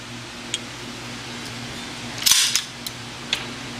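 A Jericho 941 (Baby Eagle) pistol is cleared and its slide racked, giving one sharp metallic clack-and-slide in the middle. Smaller clicks fall before and after against a quiet room hum.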